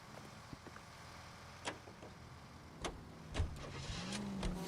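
A car engine in the video game L.A. Noire rumbles low and steady, with scattered clicks and knocks, then its pitch rises near the end as it revs up.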